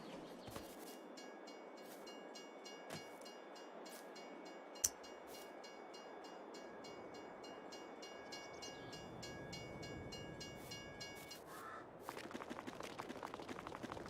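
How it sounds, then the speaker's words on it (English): A train in the Farming Simulator 22 video game rolls past, a steady rail rumble with a clickety-clack rhythm and one sharp click along the way. The rumble grows louder and busier near the end, and nobody talks. "Oh, there goes the train."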